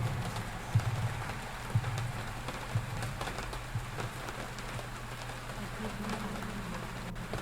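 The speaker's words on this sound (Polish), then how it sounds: "Czemu pada krwią?" Blood-red rain pours steadily in the horror video game Martha Is Dead, a dense, even hiss of drops on surfaces with a few soft thumps underneath, moderately loud and continuous.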